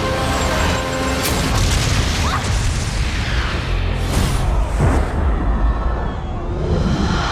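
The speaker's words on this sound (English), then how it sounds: "There's the pulse bomb." Tracer's pulse bomb detonating in Overwatch, a loud sustained explosive boom with rumbling low end and crackling bursts that carries through the whole stretch, dense and close with a swell midway.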